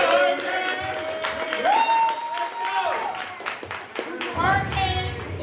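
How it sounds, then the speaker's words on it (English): Hands clap in a burst of applause amid voices and cheering, the clapping rising and falling over a few seconds. "Let's give Hurricane a round of applause."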